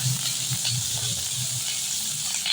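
Green chillies and onion sizzle in very hot oil with cumin in a home kitchen pan, a steady bright hiss with soft crackles and faint stirring bumps, close and continuous with no talk.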